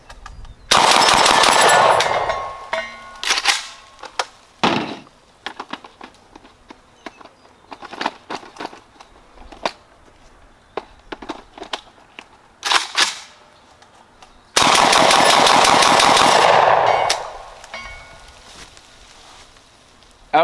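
A JTS AK12 airsoft gun fires two long full-auto bursts, a dense rapid rattle at close range, separated by quieter handling noises and scattered clicks.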